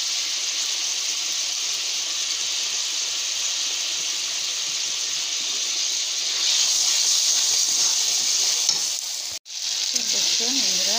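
Spice paste with turmeric and chili powder frying in a pan, giving a loud, steady sizzle and hiss up close that briefly cuts out near the end before resuming.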